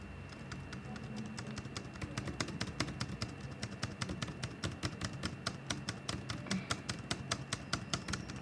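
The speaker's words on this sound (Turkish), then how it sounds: "Klavye sesi çok geliyor mu ben tıklayınca bilmiyorum" Rapid, steady clicking of a computer keyboard, close and fairly quiet, with keystrokes tapping in quick irregular runs throughout.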